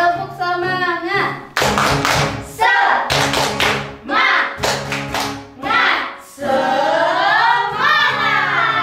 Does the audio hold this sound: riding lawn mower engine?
no